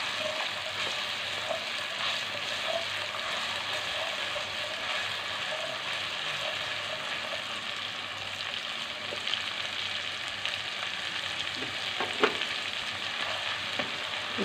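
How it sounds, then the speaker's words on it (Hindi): Onion paste and urad dal cook in a pan for a dal mash recipe, giving a steady close sizzle and hiss of frying throughout, with a few light scrapes and taps of stirring and no talk. "इसे हम तकरीबन एक मिनट के लिए"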